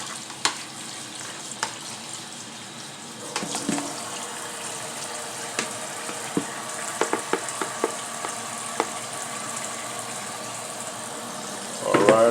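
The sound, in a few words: rinsing collard greens in the sink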